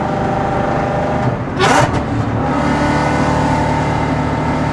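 A Ford Mustang on modified oversized tires revs up toward about 4,500 RPM while driving, a loud engine drone with a sharp rising burst partway through.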